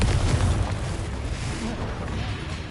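Confringo fire spell blast in the video game Hogwarts Legacy, a sustained, heavy, rumbling boom that fills the whole moment, loud and dense, with a voice mixed in.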